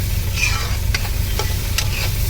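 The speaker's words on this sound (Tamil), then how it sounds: "போட்டு நல்லா கிண்டி விடுவோம்" Beetroot frying in a pan for a Tamil beetroot poriyal and being stirred, with a continuous close sizzle and a few sharp scraping strokes of the spatula against the pan.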